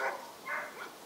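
Dogs at an animal shelter bark in the distance, two or three faint, muffled barks spaced about half a second apart, with no one talking.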